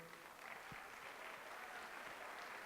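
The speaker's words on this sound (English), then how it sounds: "Give them a big round of applause." Audience applause for new teachers at a school district welcome-back event, a steady dense wash of clapping from a large crowd that stays even and fairly faint throughout, with no talking over it.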